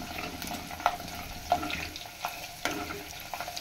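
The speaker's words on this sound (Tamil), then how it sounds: "பூண்டு கொஞ்சம் வதங்கட்டும்" Garlic frying in oil for sundakai vatha kuzhambu, with a soft steady sizzle and a few sharp clinks and taps of a spoon against the pan.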